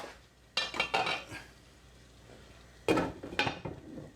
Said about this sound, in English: I'm going to put the lid on that then.